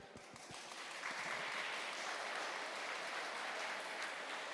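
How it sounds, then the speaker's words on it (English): An audience at a conference opening session claps for the speakers, a dense sustained wave of applause after a few sharp initial claps, steady and fairly close throughout. "give a big round of applause to today's speakers"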